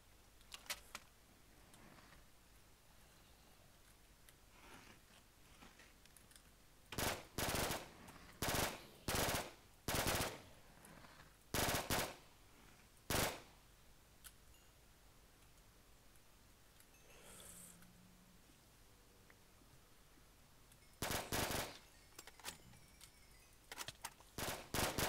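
Automatic fire from a P90 submachine gun in a video game: several short, loud bursts in quick succession, then a pause and a few more bursts near the end, with no talk over them.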